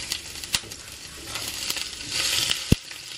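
Chili and onions fry together in oil in a pan, a soft sizzle carrying scattered sharp clicks and taps from the pan, fairly quiet and with no voices.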